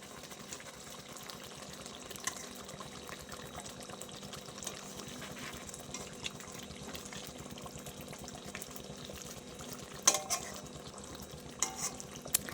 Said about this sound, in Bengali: এখন আমি মাছটা একটু উল্টে দেবো